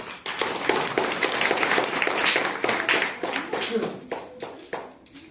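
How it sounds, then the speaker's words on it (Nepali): A church congregation claps at a Christmas service, giving a loud, dense burst of applause that runs several seconds and then thins into a few scattered claps near the end. "उहाँहरूको लागि सबै मण्डली परिवारले ताली बजाइदिनु"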